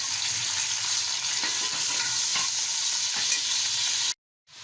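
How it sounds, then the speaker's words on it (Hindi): Chicken frying in half a cup of oil for white pulao, a dense steady sizzle with faint stirring scrapes, close and constant, cutting off abruptly near the end. "अब इसमें हम चिकन फ्राई करेंगे पहले"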